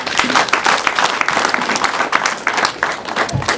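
Wedding guests clapping together in sustained, dense applause at a ceremony, loud and close throughout with no clear voices over it.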